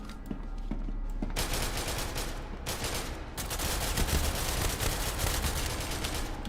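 Dense, sustained AK rifle fire in the video game SCP: Secret Laboratory, a rapid stream of loud overlapping shots with brief gaps, carrying on continuously without talk.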